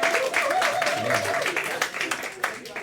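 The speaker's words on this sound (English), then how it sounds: "Another round of applause for everybody who just went before me" Audience applause and cheering at a high school poetry slam, a steady wash of clapping throughout, with a brief spoken word over it.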